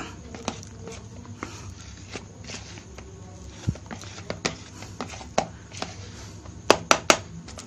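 Carp fishing bait mixture being stirred by hand, giving a run of soft scraping, clicking and knocking sounds at an irregular pace, up close, with a few sharper knocks near the end.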